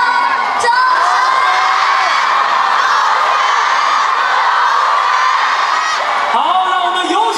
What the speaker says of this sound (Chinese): 那我们喊三声，掌声。